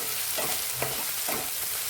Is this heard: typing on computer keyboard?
no